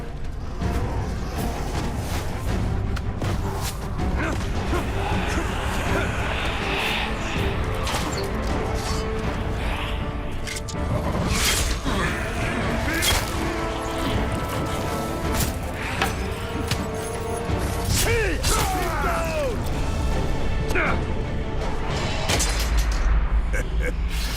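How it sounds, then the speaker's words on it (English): A gate being smashed in the video game Middle-earth: Shadow of War, heavy crashing impacts and creaking mechanisms over a loud, dense battle din, with voices shouting amid the chaos. "Destroy the gate!"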